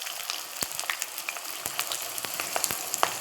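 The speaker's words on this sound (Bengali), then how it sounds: "ওই তেলে কিছুটা পেঁয়াজ বেরেস্তা করে নেব।" Onions for fried shallots sizzle in hot oil that was first used to fry potatoes. A steady crackling hiss carries sharp, irregular pops and occasional stirring clicks, with no voice over it.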